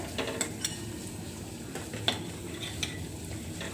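Spices sautéing in a pan for about a minute, a steady low sizzle under several sharp scrapes and clinks of a utensil against the pan, with no one talking.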